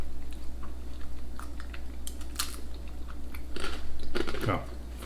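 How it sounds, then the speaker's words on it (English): Thin UK crackers topped with caramelized onion cheese being bitten and chewed, giving several light, close crunches while people talk in between. "The little light crunch."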